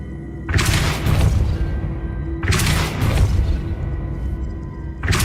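Depulso spell cast in Hogwarts Legacy, a loud booming burst that hits twice with a fading rumble between, then starts a third time at the very end, with no voices.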